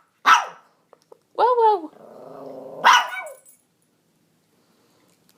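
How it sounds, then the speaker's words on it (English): A dog back home after a haircut gives a couple of sharp, close barks with a low growl in between, while a person calls out to her. "Mama's giving you permission to bark."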